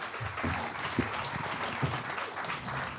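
Applause for the panel at a student political party debate, a steady wash of clapping from a modest audience, moderately distant and continuous with no talk over it.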